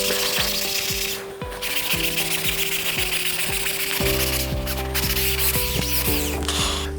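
Abrasive scrubbing across a cast iron table saw top with slotted miter guides, back-and-forth strokes giving a repeating rough rubbing rhythm with ringing tonal scrapes, close and steady throughout.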